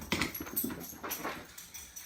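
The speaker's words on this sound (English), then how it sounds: "Excuse my dog running around, but she's very active right now." A pet dog scampering around a room indoors, quick soft patter of paws and claws in short bursts, fairly close, with no talk over it.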